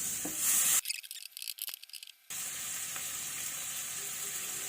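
Bacon frying in oil in a pan for carbonara gives a steady bright sizzle, broken for a moment by a louder burst of clattering stirring, then the even hiss returns.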